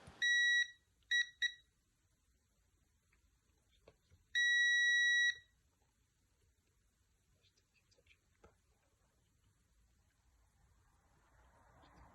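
A multimeter beeping during continuity tests on a game controller's circuit points: several short sharp beeps at the start, then one longer beep, with quiet faint handling sounds in between.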